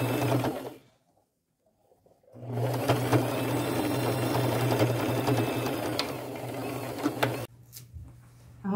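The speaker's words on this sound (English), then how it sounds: "Go forward back. And finish" Sewing machine stitching forward and back to close a seam on an upcycled thrifted ruffle dress, a steady close whirring run of about five seconds between short pauses, with a brief burst near the end.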